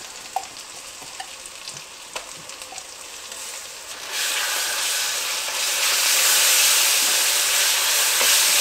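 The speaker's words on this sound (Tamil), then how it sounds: "இப்போ இஞ்சி பூண்டு வதங்கிருச்சு." Ginger garlic paste fries with onions, mint and green chilli, starting as a moderate sizzle with occasional stirring clicks, then swelling halfway into a louder, dense, continuous hiss up close.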